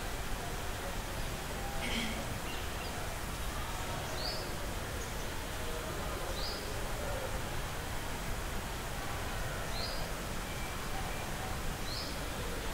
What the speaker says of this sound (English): amidst all this noise you can hear some birds.